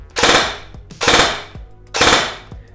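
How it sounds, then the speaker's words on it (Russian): G&G ARP 9 airsoft gun firing three-round bursts, three loud, close bursts evenly spaced about a second apart, each a rapid mechanical rattle with a sharp onset that trails off, no voices. "Привод можно запрограммировать на стрельбу очередями по 3 шара"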